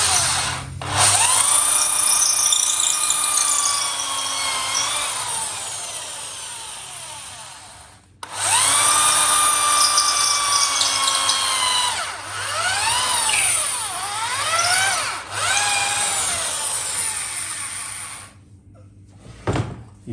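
A power drill bores into a kudu horn shofar, giving a loud, steady whine whose pitch rises and falls with the load. It stops briefly near the middle, restarts, then winds down toward the end, with no talk.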